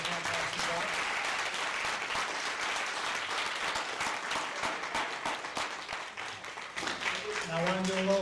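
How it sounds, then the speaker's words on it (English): Audience applause for six contestants at a statewide Lions speech contest, steady sustained clapping from a room-sized crowd lasting several seconds before a voice starts speaking at the end. "I want to give a great big round of applause to all 6 contestants."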